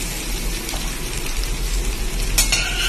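Ginger added to hot oil in a pan for tempering sizzles in a steady, rain-like crackle, close and fairly loud, with a brief clink of a utensil near the end and no talk.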